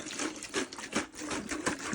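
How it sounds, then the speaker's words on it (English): Lab blank water, distilled water from the lab, being poured into a jug during mercury water sample processing, a steady close gurgling splash that continues throughout with no speech. "I'll pour some of this inside the jug"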